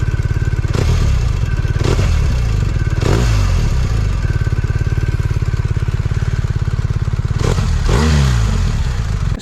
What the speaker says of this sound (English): she's got the Akroprovich exhaust, which is not the standard pipe. Very, very nice indeed. Let's see what she sounds like,